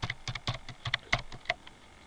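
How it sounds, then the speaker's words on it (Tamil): Fingers type in quick, irregular bursts on a computer keyboard, with close, crisp clicking keystrokes and short pauses between them in a quiet room. "நான் என்னோடய சேனல் நேம் வந்து டைப் பண்ணிக்கிறேன், மெடி கிரியேட்ஸ்"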